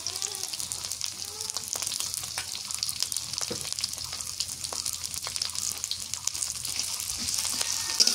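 Garlic paste, onion paste and green chillies sizzle together in hot oil for a Bengali banana kandail dish, giving a steady, close crackling fry that runs the whole time with no talk.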